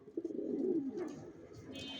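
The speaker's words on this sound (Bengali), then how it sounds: "ভিউয়ার্স দেখতে পাচ্ছেন এখানে সব অ্যাডাল কবুতর" Adult racing pigeons coo in low, rolling throaty calls close by, several overlapping coos swelling and fading over a quiet background.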